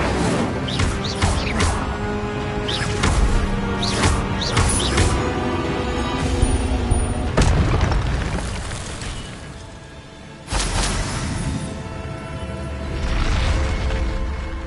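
Incendio fire spell cast in Hogwarts Legacy, with bursts and crashing hits over dense, loud game music and effects that continue throughout.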